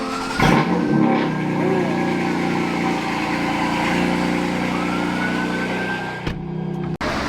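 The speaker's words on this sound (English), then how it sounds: "Little cold start action for y'all." A car engine cold-starts, the crank catching into a loud, steady fast idle with a faint whine, holding close and even for several seconds before cutting off abruptly near the end.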